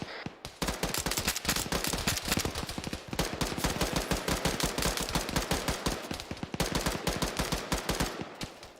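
Sustained automatic gunfire in a military video game, loud rapid bursts of shots running nearly nonstop with only a couple of brief pauses.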